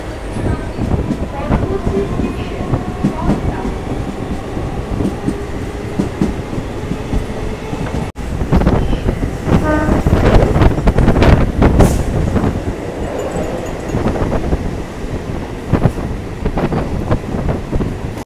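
Inside a Sealdah–Lalgola local train just after it leaves Barrackpore station, a continuous loud rumble and rattle of the carriage mixes with irregular clacks over the track and wind buffeting, and a sudden jolt comes midway.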